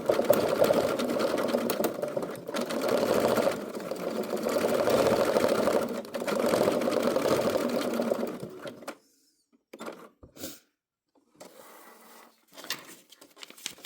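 A sewing machine stitching a free-motion thread sketch runs with a fast, steady whirring patter for about nine seconds, then stops, leaving a few soft clicks and handling noises.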